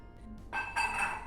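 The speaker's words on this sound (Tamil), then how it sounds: "ஒரு 1/2 டம்ளர் தண்ணி ஊற்றி வேக வச்சுக்கலாம்." Half a tumbler of water pours into a pot of capsicum sambar in a steady splashing stream that starts after a brief quiet moment and keeps running to the end.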